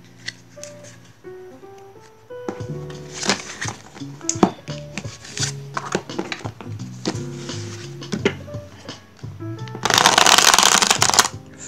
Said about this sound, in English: Let's shuffle this together. Shuffles the way, sort of linen, heavy, smooth.